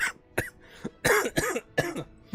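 A burst of several harsh coughs and throat-clearing sounds, close and loud, coming in uneven bursts with short pauses between.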